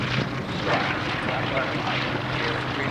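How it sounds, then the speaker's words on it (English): Two North American B-25 bomber aircraft with their piston engines at takeoff power, a steady, loud, broadband propeller roar running throughout without a break, at a warbirds air show. "We have just taken off the 2 B-25s"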